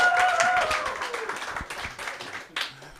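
A live audience claps and cheers at a small music show at the bench in Boise, Idaho, the applause loud at first and gradually thinning out, with a few whistles mixed in.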